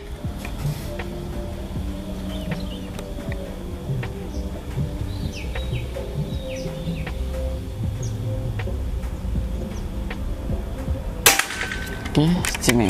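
Outdoor ambience with faint bird chirps, then one sharp, close PCP air rifle shot bursts out near the end, followed by a brief rattle.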